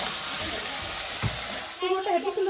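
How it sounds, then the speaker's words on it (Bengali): Pumpkin pieces fry in a pan with a continuous close hiss and sizzle, and a short bit of clattering or movement near the end. "হালকা হালকা ভাজা হয়ে গেছে আর একটু ভাজবো তারপরে নামাবো"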